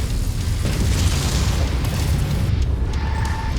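Missile explosions rumble through a battle in the MechWarrior 5 video game, a dense, continuous low booming barrage that fills the whole stretch at steady loudness, with a faint tonal beep near the end.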